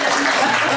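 Applause at a county school board meeting, a brief, steady burst of clapping from the room, fairly loud and close throughout.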